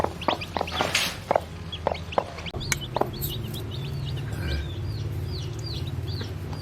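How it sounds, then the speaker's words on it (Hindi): A hen sitting on newly hatched chicks gives repeated soft clucks at close range, with a few sharper calls mixed in and faint chick peeps and a steady low hum underneath. "मुर्गी हमारी माशाल्लाह बड़ी प्यारी है, बिल्कुल जो है ना वो चों चों करती रहती है"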